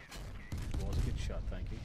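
Naval gunfire in the warship game Steel Ocean, a dense run of booming shots and rumbling blasts that fills the moment, loud and close with mechanical clatter and a voice talking over it.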